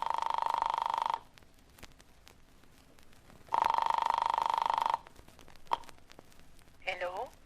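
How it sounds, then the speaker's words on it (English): An old telephone rings in two long, steady electric bursts with a quiet pause between them. Scattered clicks and a brief voice follow at the end. "I flicked the telephone dial to the number in her note."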